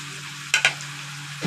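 Soft poa fish drops into hot oil with fried tomato and onion, giving a short steady sizzle broken by two quick splashing bursts, close and alone.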